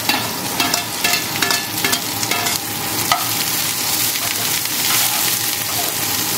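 Onion and cabbage sautéing in a hot pan, a steady close sizzle with repeated scraping stirs throughout, no voices.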